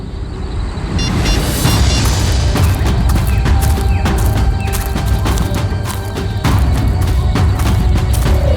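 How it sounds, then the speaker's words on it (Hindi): Gunfire in a tense crime-drama scene: rapid, loud bursts of shots crack out repeatedly over a dense, booming background, with the volume staying high throughout. "ये पटाखों की आवाज नहीं, कोई गोली बरसा रहा है।"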